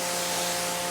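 A water sprayer rinses a car with a ceramic coating, a close, dense, continuous hiss of spray with a steady hum beneath, brief and unbroken.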